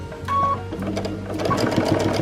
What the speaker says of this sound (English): And then I'm going to stitch right around on my purple.